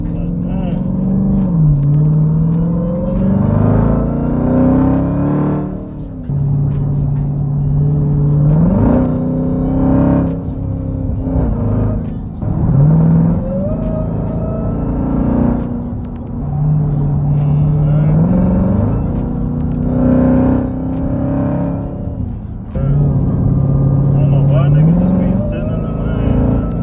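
A car engine revving with a raspy exhaust tone, rising in repeated pulls and dropping back to idle several times, loud and close, with pitch climbing on each rev.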